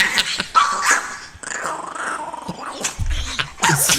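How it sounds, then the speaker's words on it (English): A pit bull and a chihuahua fighting, with snarling growls, sharp yips and whimpers overlapping in a close, chaotic scuffle lasting several seconds. "You ever see a pit bull fight a chihuahua?"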